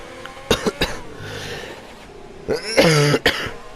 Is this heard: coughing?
yes